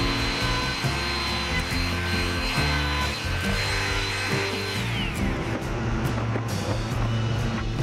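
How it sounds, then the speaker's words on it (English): A palm router fitted with a 3/16 inch roundover bit cuts along the edges of wooden pergola braces, giving a loud, continuous high whine with shifting pitch as it runs close by. "I run a 3/16 inch roundover bit over them with a palm router"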